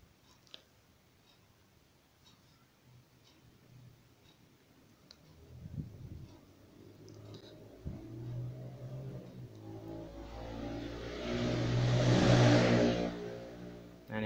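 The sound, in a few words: motorcycle engine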